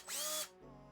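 A new power drill gives a short, loud, high whirring burst that drops into a quieter, lower spin-down.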